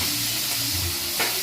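Saltfish frying in a pot for Jamaican steamed cabbage gives off a loud, close, continuous sizzle and hiss with a brief bubbling surge near the end.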